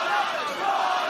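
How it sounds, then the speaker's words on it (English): A crowd at a combat sports fight roars and cheers in a dense, sustained wall of voices for just over a second, loud and unbroken. "as the crowd starts to rally behind him"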